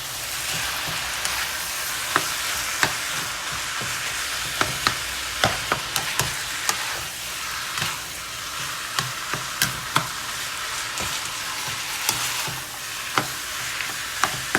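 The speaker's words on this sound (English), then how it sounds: "I'm just working everything in, mixing, incorporating everything" Chicken lasagne filling sizzles steadily in a hot pan while a spoon stirs and scrapes through it, with sharp clicks and knocks scattered unevenly throughout, close and fairly loud with no voices.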